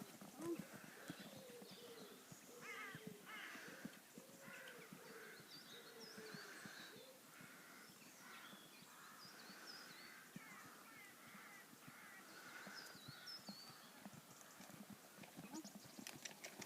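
A horse trots during a riding lesson, hooves clip-clopping in a steady rhythm throughout, with crows cawing nearby and occasional spoken instruction over the top.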